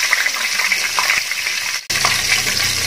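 Chicken frying in hot oil in a pan gives a loud, steady broadband sizzle that cuts out for a split second and resumes at full strength.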